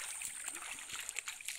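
River water, murky from a recent flood, flows in a steady hissing rush with light splashes and trickles, close by and fairly quiet.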